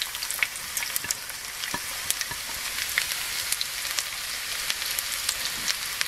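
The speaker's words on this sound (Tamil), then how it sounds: "இதை வந்து நம்ம தேங்காய் எண்ணெயில் தான் தாளிக்க போகிறோம்." Curry leaves temper in plenty of hot coconut oil for a mutton chakkoli, with a dense, steady crackle and spatter that runs unbroken throughout, close and fairly loud, with no voices.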